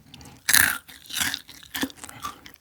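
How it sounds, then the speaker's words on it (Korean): Close, crisp chewing of crunchy potato-coated fried chicken, with three or four loud crunching bites and soft mouth sounds between them, and no talking. "이렇게 아삭아삭한 느낌의 감튀입니다"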